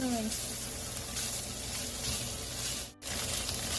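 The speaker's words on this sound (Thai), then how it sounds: "มาผัดกันเลย" Tofu and pickled radish stir-fry in a hot pan, a constant hissing crackle with a brief dip near the end, over a faint low hum.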